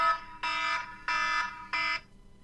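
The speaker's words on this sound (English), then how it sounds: "My alarm." An alarm sounds three times in a steady pattern, each loud tonal burst lasting about a third of a second with short gaps between. No one speaks over it.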